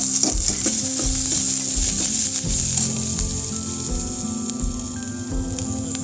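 Cloves, cinnamon, fresh ginger and garlic sizzle steadily in hot oil in a pan, loud and close, with repeated scraping stirs throughout.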